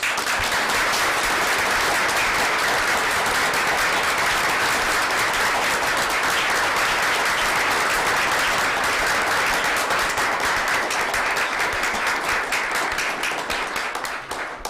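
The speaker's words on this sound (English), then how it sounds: "I hope everyone will join me in a round of applause" Sustained audience applause at a Bronxville board of education meeting, steady, full-room clapping that continues without a break for around fifteen seconds, with no talk over it.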